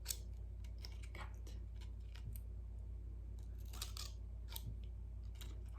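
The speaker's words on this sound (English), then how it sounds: "making little snips right to the top" Scissors make quick, small snips into paper for a handmade Mother's Day card, a close run of crisp irregular cuts over a low steady hum.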